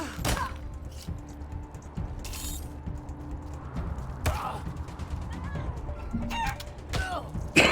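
A chicken in the video game Wasteland 3 clucks and squawks in short bursts over a busy mechanical game soundscape with creaks and clatter, loud and close throughout.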